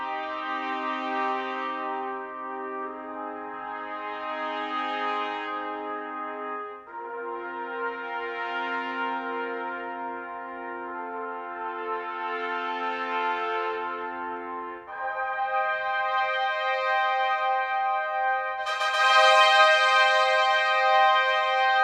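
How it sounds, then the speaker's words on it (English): Layered orchestral trumpet sample library patches play a series of long, full brass notes, each swelling and fading. The pitch rises in steps to a brighter final chord, with no talking. "they really make a nice full trumpet sound"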